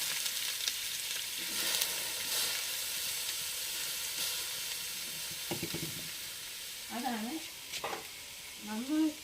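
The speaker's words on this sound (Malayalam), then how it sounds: "സവാള ഇട്ട് കൊടുക്കാം ഇത് നന്നായിട്ടൊന്ന് മുരിച്ചെടുക്കണം" Sliced onions fry in a hot pan for a thoran and are stirred, giving a steady sizzle with scraping strokes and a few short wavering vocal-like tones near the end.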